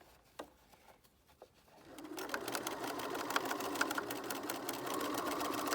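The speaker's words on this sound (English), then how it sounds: "You see I reverse stitch there just to give it a little bit of strength." A home sewing machine stitches a fabric face mask near the edge. A couple of faint clicks come first, then a steady rapid whir of stitching takes over and runs to the end.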